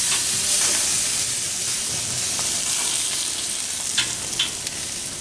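Korean-style beef short ribs cook on a Pit Barrel Cooker, giving a constant broad sizzle and hiss of fat on heat with a few faint pops and crackles, steady throughout and free of talk.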